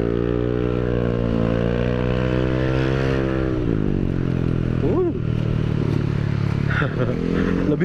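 A Yamaha Aerox 155 scooter fitted with a new local-brand aftermarket exhaust drones steadily and loudly, its pitch rising and falling through several revs, with someone talking over it.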